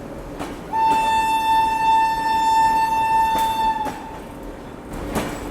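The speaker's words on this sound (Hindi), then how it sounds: "ये देखो सचखंड एक्सप्रेस को यहाँ से डिपार्चर मिल गया और हमारी ट्रेन अभी भी यहीं पे खड़ी है।" The Sachkhand Express pulls away from a station, and its horn gives one long, steady, loud tone lasting about three seconds over a rumbling platform background, followed by a couple of faint knocks.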